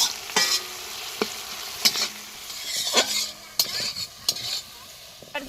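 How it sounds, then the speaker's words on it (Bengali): Spices frying with salt and chilli powder in a pan at an outdoor village winter picnic, a steady close sizzle broken by repeated sharp stirring scrapes every second or so, with no talking. "এবার চলো কষিয়ে নিই।"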